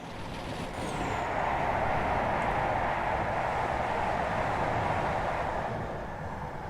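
Class 47 diesel locomotive 47508 passing in a train simulator game, a broad rumbling roar that swells after a second, holds steady and eases slightly at the end.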